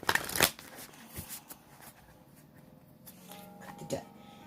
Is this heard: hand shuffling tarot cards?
yes